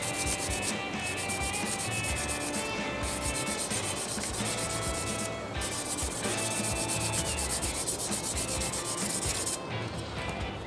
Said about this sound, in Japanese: ここにねマジックヤスリをこうかけてあげる。